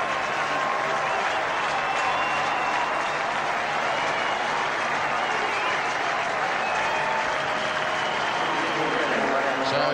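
A big cricket crowd at McLean Park in Napier applauds a batsman walking off after a one-day international innings of 90, giving a steady, loud, sustained roar of clapping throughout.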